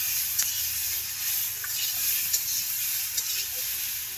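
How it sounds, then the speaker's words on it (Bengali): Vegetables fry in hot oil with a steady, bright sizzle and hiss that holds throughout, broken by a few faint clicks of stirring. "আনাজটি ভাজা হয়ে গেছে, এখন তুলে নিন।"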